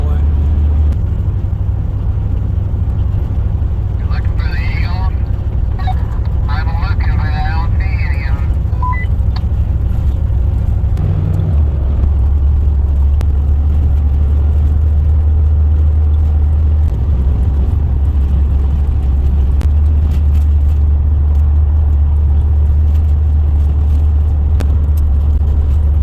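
A motorhome driving through the Yakima River Canyon gives a steady loud engine and road drone throughout, with a brief rattle and jangle early on and someone talking over it.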